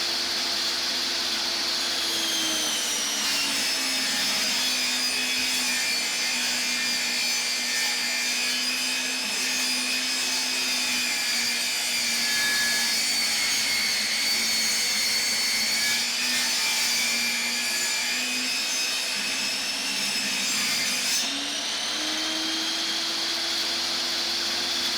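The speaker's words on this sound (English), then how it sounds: "just set the blade basically right in the middle of the board and feed these through" A power saw rips lengthwise through wooden boards for a homemade wine rack, giving a loud, sustained whine and roar that drops in pitch as the blade bites into each board, rises again at the end, and goes on without talking.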